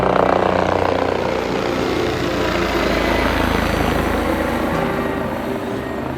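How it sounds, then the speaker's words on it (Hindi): A helicopter roars continuously with a steady rotor drone, loud and close throughout, with wind-like rumble underneath, in the mountains on the Kedarnath trek. "हेलीकॉप्टर आ रहा है।"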